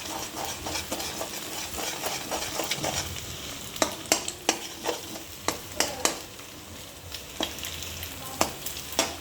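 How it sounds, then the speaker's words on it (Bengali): Egg sizzles as it fries with potatoes in a wok, with repeated sharp scrapes and taps of stirring over a steady frying hiss. "ডিমটা ভেজে আলুর সাথে মিক্স করে নেবো এইভাবে"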